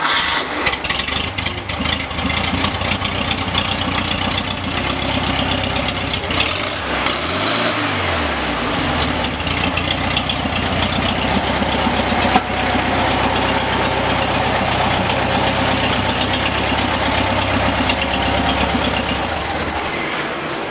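A rebuilt 1972 VW Super Beetle air-cooled engine idles on a stand after break-in, a steady loud mechanical drone with a brief pitch dip midway and constant rattly texture, no talk.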